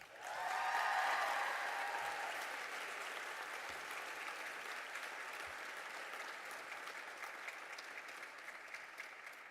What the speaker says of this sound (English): we encourage you to cheer, clap, hoop, and holler when you hear the name of your friend or family member called